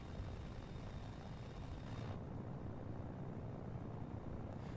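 Helicopter rotor blades running in Kerbal Space Program, a steady, dense whooshing drone that holds at a constant level throughout, its high hiss dropping away partway through.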